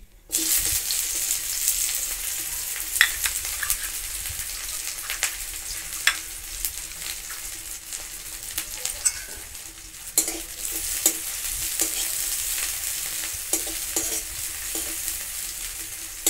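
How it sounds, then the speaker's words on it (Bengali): Small chopped onions frying in mustard oil with cumin in a pan, a continuous crackling sizzle with repeated spatula stirs and scrapes, close and steady throughout. "পেঁয়াজটা একটু ভেজে নেব।"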